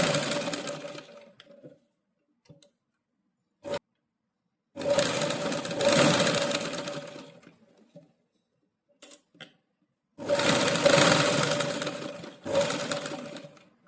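A sewing machine stitches a blouse with a back neck design in three main bursts of rapid whirring, separated by quiet pauses with a few short clicks and taps.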